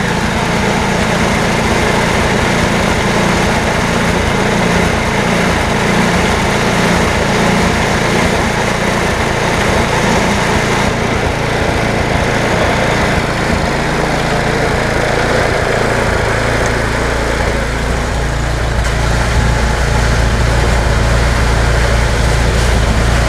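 An MTD snow blower's small engine idles steadily and loudly, a continuous buzzing putter with slight fluctuations and no speech over it.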